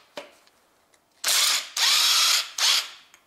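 Ratchet wrench with a 12 mm socket loosening a bolt on a Honda Civic 1.8 engine, three quick bursts of sharp rattling pawl clicks after a few light taps, close and loud.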